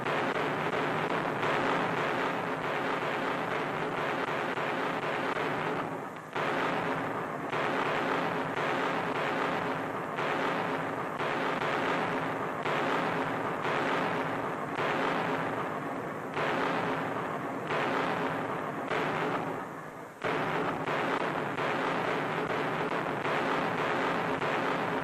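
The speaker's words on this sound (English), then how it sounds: "As darkness falls, the Allied big guns go into action" Allied big guns fire at night in a 1943 wartime newsreel, heard as a dense, continuous rumbling roar with repeated heavier thumps and brief dips throughout.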